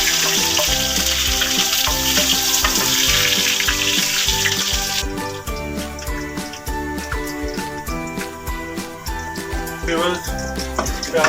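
Onions fry in hot oil for aloo matar, a loud broad sizzle for the first five seconds that then settles into a softer crackle under music.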